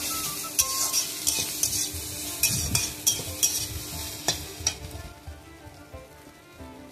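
Figs are stirred and fried in a pan, with a soft continuous sizzle under repeated scraping strokes and light clinks of a utensil against the metal, close and fairly quiet, no talking.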